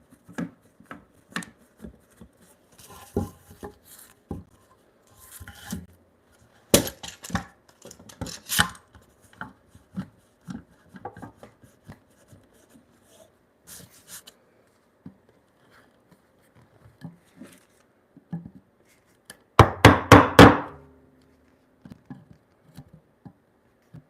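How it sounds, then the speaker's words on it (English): A chisel cuts a timber mortise and tenon joint for a timber-framed bunk bed: sparse, sharp wooden taps and short scrapes with quiet gaps between them, then a denser burst of louder scraping near the end, with no voices. "I'm going to finish cutting this joint and then we'll wrap it up."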